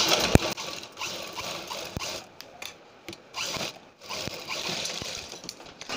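A sewing machine stitches fabric along the edges over buckram for a kurti back neck design, giving short bursts of close mechanical whirring broken by clicks and brief pauses.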